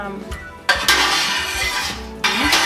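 Buttermilk being stirred into heated milk in a pot for making American cheese, with clinks and scrapes of a utensil against the metal pot, loud and close, in bursts with brief pauses.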